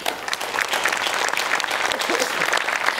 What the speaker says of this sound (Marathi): या जोरदार टाळ्या आपल्या समीर चौगुले यांच्यासाठी